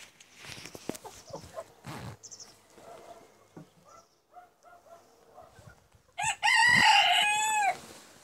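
A rooster in a backyard flock crows near the end, loud and drawn out after scattered clucks, soft rustling and a dog's bark in the quieter stretch before.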